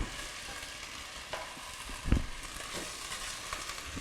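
Tomato puree, onions and garlic sizzle and fry steadily in a pan over medium heat, a continuous close crackle with a few soft stirring scrapes and no talking.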